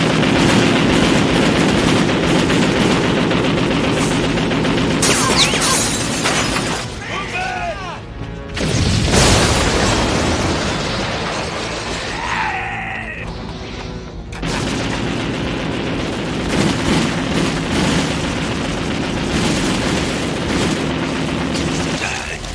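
Dense gunfire and explosions from a police shootout in a dubbed anime, sustained loud bursts and booms with a brief lull midway, mixed with shouted voices.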